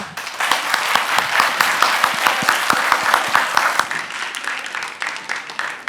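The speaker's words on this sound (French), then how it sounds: "On va encore applaudir très très fort" Audience at a children's event in a mosque in Cocody applauding loudly and steadily, dense clapping that continues for several seconds before easing slightly toward the end.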